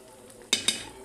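A utensil stirs fried fish and tomatoes in a pan, making two quick close scraping clinks in succession against faint background noise.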